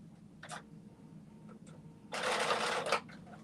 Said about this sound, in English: I'm just doing a stay stitch in the top